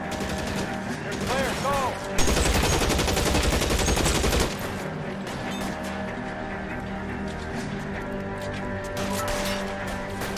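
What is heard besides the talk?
gunfire from a gun in the video game L.A. Noire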